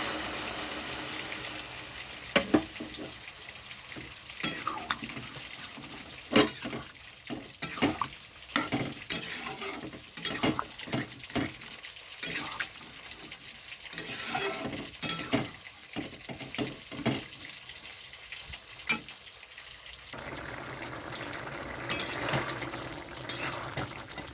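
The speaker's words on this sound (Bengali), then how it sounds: "এখানে আমি জল দিয়ে দিচ্ছি পরিমাণ মতো" Water is added to frying red chickpea curry while it is stirred, a soft ongoing sizzle under irregular spoon scrapes and knocks against the pan, close by.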